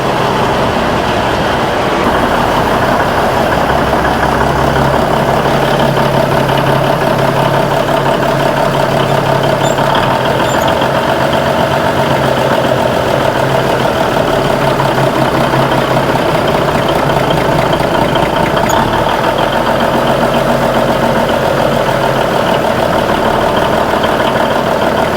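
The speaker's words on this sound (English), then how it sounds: "Bumper's rattling." A truck engine idles steadily and close for a long stretch, a low continuous rumble with a loose bumper rattling faintly in the mix.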